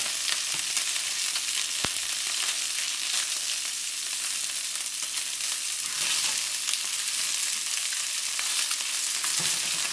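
Fish sizzles and fries steadily in a pan, a dense continuous crackle for a stir-fry with chili bean sauce, close and even throughout with an occasional sharper pop and no talking.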